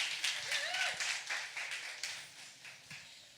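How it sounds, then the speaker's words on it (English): A small audience at an evening panel discussion claps for the panelists, a sparse, fairly close patter of individual hand claps over a few seconds with a faint voice at the start. "So give a round of applause for them."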